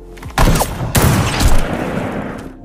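Loud gunfire in a gun battle comes as sharp cracks and booms, with a hard burst near the start and another about a second later, then ringing rumble in a dense, close soundscape.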